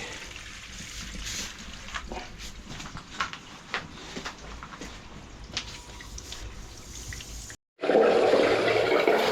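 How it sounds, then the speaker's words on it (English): Toilet flushing after a plumbing repair: a steady low trickle of water runs for several seconds, then a brief pause before a loud, rushing flush surges up close. "Or it's flushing, we should say, and that should be going down there like Joe Billio now."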